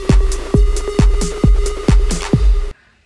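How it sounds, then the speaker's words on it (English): A percussion sample processed with heavy distortion and reverb, loud gritty hits in a steady rhythm of about six beats over a sustained buzzing tone, cutting off abruptly into silence. "Just add like some heavy distortion and reverb on a sample,"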